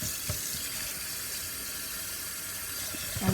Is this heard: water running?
yes